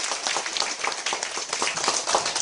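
Audience at a university social welfare department welcome workshop clapping for their professors, a dense, even patter of many hands close by, continuous throughout with no talk over it.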